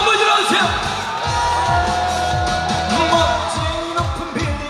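A festival crowd at an outdoor stage show cheers, whoops and shouts in bursts, loud and close, while a singer's amplified voice talks and sings over the noise.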